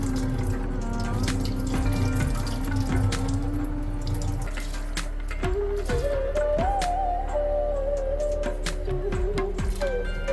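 Soaked rice tipped into hot water for chicken biryani, a steady watery rush and trickle over a constant low hum, with a few light clinks and no speech.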